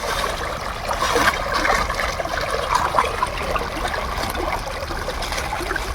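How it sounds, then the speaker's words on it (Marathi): A continuous gush of water running from a pipe, steady and fairly loud throughout, with a faint splashing texture. "इकडं आहे आपला पाईप जो की त्यातून पाणी येत आहे"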